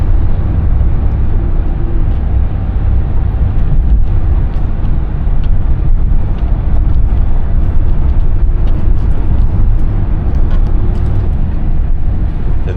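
Steady vehicle rumble as a van drives along the road toward El Nido in the Philippines, a continuous loud broadband drone with road noise, no voices.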